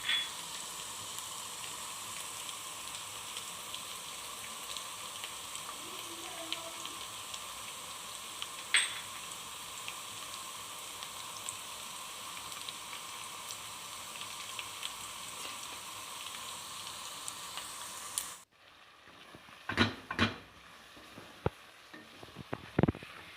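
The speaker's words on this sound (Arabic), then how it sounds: "نقليوهم ثاني شويه" Vegetables frying in a pan with ginger, black pepper and salt give a steady, close sizzle for most of the clip. The sizzle then stops abruptly, followed by a few sharp utensil clatters.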